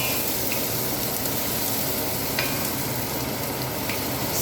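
Garlic sizzles steadily in a hot oiled pan, a dense, even crackle with occasional stirring scrapes, close and continuous without talk.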